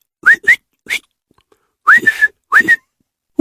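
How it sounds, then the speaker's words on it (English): A person whistles a short run of rising, chirpy notes, several quick phrases broken by brief pauses and heard alone and close. "Whistle."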